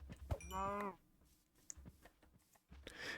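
A cow moos once in vanilla hardcore Minecraft, a short harmonic call early on, followed by quiet clicks and game noises with faint background sound.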